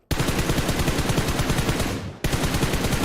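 Automatic gunfire in the mobile game PUBG Mobile, a dense rapid burst of loud shots that stops briefly and then resumes, heard close with no talking.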